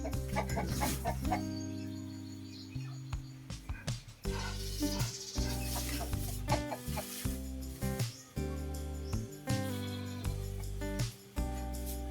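Free-range chickens in their coop cluck steadily throughout, with a rooster's deeper calls mixed in, all over a busy background of music-like tones.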